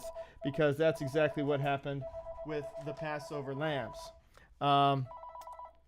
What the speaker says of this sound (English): I don't know if you can hear my phone going off in the back